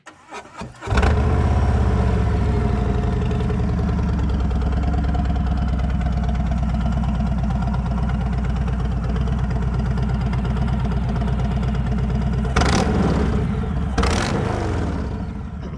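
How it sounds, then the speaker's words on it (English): A 2019 Harley-Davidson Milwaukee-Eight motorcycle with a Stage II setup fires up and settles into a loud, steady, rumbling idle with a throaty exhaust throb, a couple of sharp blips near the end. "So Dwayne, why did we play that little clip of the exhaust sound on my 2019 M8"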